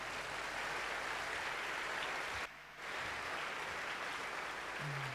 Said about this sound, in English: You can give yourselves a huge round of applause.